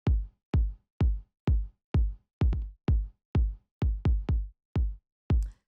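A punchy kick drum hits repeatedly on its own, mostly evenly spaced with a few quick doubled hits, each boomy and decaying fast.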